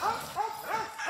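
Young puppies yip and whimper in quick, high-pitched bursts, several short cries in a row, close by and fairly loud.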